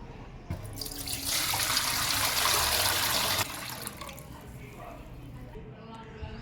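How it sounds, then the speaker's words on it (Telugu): Water pours steadily into a bowl for a couple of seconds, a bright rushing splash that stops abruptly, with faint talk around it. "ఫస్ట్ దాంట్లోకి వాటర్ తీసుకుంటున్నామండి, పిండి కలపడం కోసం"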